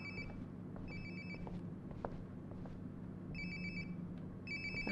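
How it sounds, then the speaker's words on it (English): A phone ringing in the video game Life is Strange: Before the Storm, with repeated bursts of a high electronic ring tone, two rings each, over a low humming background and faint shuffling. "Sounds like my phone is definitely nearby."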